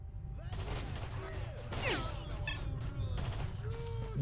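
Rapid bursts of gunfire from S.T.A.L.K.E.R. Shadow of Chernobyl, sharp repeated shots over a dense low rumble, with wild dogs being fought off and scattered cries under the firing.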